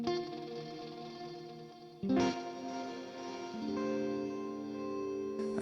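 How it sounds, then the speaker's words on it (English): Sustained guitar chords pass through a Headrush MX5 modeler's diffused delay-network reverb, swelling into a shimmering, echoing wash as a new chord is struck and the tail keeps blooming. "a pretty complex kind of network of delays, if I turn the mix up, that are kind of getting diffused"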